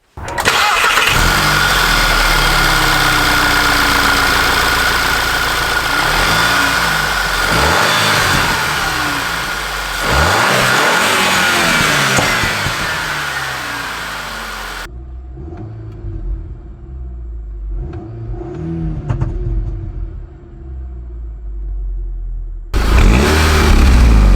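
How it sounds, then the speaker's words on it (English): A Volkswagen GTI engine with stock intake idles and revs repeatedly, loud and close, rising and falling with deep rumbling, briefly dropping quieter before roaring again. "we need to hear what the car sounds like stock"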